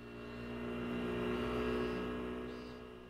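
A scooter engine in the video game Persona 4 Golden revs in one smooth swell, rising and falling over about three seconds at a fairly low level, with no voices.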